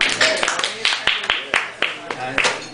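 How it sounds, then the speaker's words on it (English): A small comedy-club audience gives a round of applause at a stand-up show, a thin scatter of sharp, uneven claps, fairly close, under someone talking. "give yourself a round of applause for sticking around"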